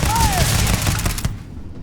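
Gunfire crackles in a burst during a firefight in the sci-fi game Starfield, loud and close for about a second before fading into a quieter rumble.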